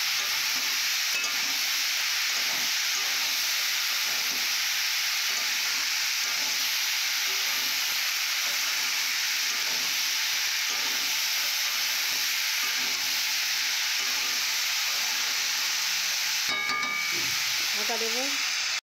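Okra fries in a pan with chilli powder and turmeric, giving a steady, close sizzle and hiss throughout, with a brief rattle of stirring near the end.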